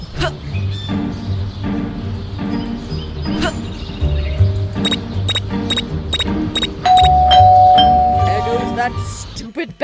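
A chiming doorbell in the video game Scary Teacher 3D rings several times in quick repeated tones over background music and chatter, with a sustained electronic tone near the end.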